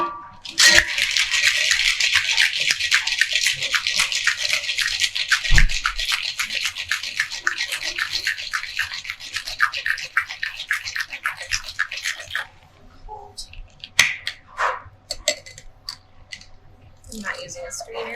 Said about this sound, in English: Shake these ingredients with ice.